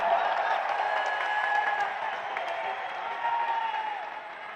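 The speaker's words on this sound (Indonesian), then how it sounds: "Beri tepuk tangan untuk Mas Ahaye." Applause and crowd noise from an audience at an Indonesian political rally, a sustained, fairly even wash of clapping with cheers that fades slightly toward the end.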